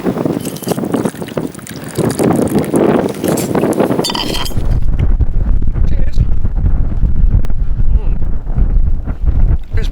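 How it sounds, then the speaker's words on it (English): Wind gusting across the snowy Lomond Hills during a winter snowshoe walk, a steady low roar buffeting the microphone throughout, rougher and busier in the first few seconds, then settling into a deep continuous rumble. "It's a bit blowy."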